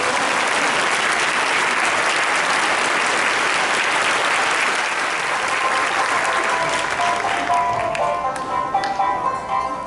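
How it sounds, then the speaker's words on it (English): A concert audience at a school year-end concert claps in thick, sustained applause that holds steady for most of the clip, then thins toward the end as a few musical tones come in. "Now we clap."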